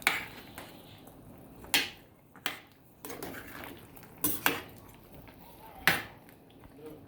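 A spoon clanks and scrapes against a pot of seasoned Jamaican-style turkey neck, several sharp metallic knocks spaced irregularly over a quiet background.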